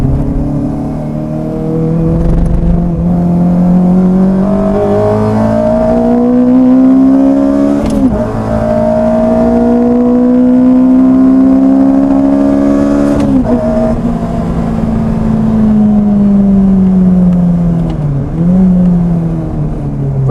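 A Renault Clio 182 fitted with a Honda K20 engine howls around a race track, revving up through the gears in long rising sweeps, with sharp drops at each shift, loud and close inside the car.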